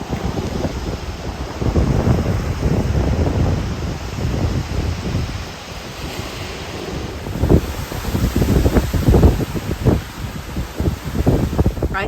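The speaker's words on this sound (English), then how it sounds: "It is so windy right now." Strong gusts buffet a campground near Watkins Glen State Park, roaring and surging in waves with heavy microphone rumble and rustling, easing briefly midway before blasting again.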